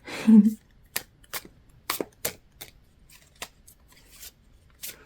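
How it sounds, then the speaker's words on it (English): A short burst of riffling tarot cards followed by a series of sharp, irregular taps and snaps as cards are handled, close and fairly quiet. "So as I'm shuffling out these cards"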